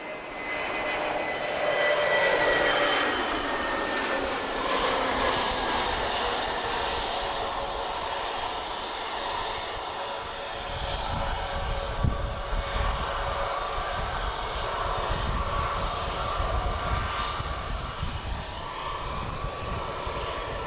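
An Airbus A320neo airliner, TAP flight TP1359 from London Heathrow, landing at Lisbon Airport, its engines giving a loud, sustained roar and rumble that holds steady throughout with no talk.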